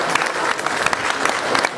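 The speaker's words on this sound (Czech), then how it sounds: "potlesk pro Honzu Skurkovského" Audience at a live juggling show for performer Jan Skorkovský breaks into steady, dense clapping that keeps going at a constant loudness through the whole stretch.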